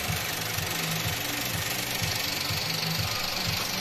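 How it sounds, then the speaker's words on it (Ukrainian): Idling engine of a 2014 VW Passat B7 1.8 TSI after timing chain replacement runs smoothly, a faint, even, rhythmic ticking hum heard alone and without stumbles. "Ось так от працює двигун."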